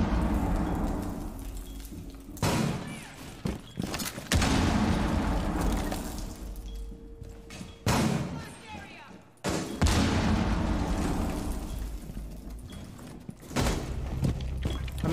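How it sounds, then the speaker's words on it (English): A frag grenade blast and gunfire in the video game Rainbow Six: loud booms and bursts of shots recur through the stretch, with players talking over the action. "Throwing frag."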